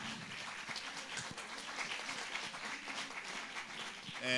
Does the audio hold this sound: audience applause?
yes